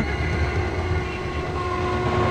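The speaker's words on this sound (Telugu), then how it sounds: "ఈ ట్రైన్ నంద్యాల క్రాస్ చేసే కదా వెళ్ళాలి" A train rumbles past close by at a railway level crossing near Nandyal, a steady low roar with a faint tonal whine, no voices.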